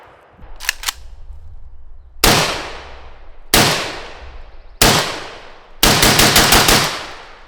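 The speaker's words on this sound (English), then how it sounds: "back with the 10-inch Polish gun, this time with the 30 cal YHM Resonator K." Four suppressed gunshots from a 10-inch 7.62x39 bolt-action rifle fitted with a YHM Resonator K can, each a loud sharp crack with a decaying tail, after a faint click, outdoors.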